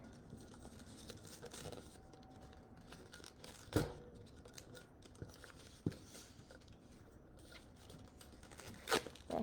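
Taped-on tape peels off in a few short, sharp tearing rips between soft handling rustles and scrapes, heard close and quiet with no voices.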